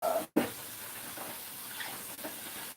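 Water runs into a kitchen sink with a little bleach added, a soft steady rushing after a brief break near the start, faint and close with no talking.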